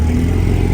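A Porsche 911 Turbo at a local car meet gives off a steady, low engine drone, brief and fairly loud, with no voices over it.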